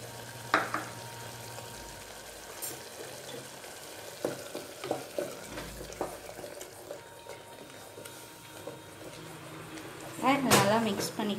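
Onion paste frying and being stirred in a pan for a pattani (green pea) kurma, a steady sizzle with scraping spoon strokes and a louder burst near the end, with a voice speaking over it.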